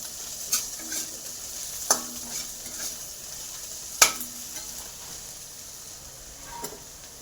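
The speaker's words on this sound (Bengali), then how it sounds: "পেঁয়াজগুলো ভাজা হয়ে গেছে।" Onions frying in a pan with a spatula stirring them, soft steady sizzle with a few sharp scraping clinks of the utensil against the pan, close and fairly quiet, no voice.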